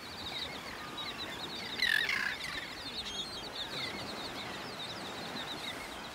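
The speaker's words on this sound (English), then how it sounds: "Look at all those birds." Birds chirp and call in short, high bursts at a beach lagoon in North Naples, Florida, some way off, over steady outdoor background noise.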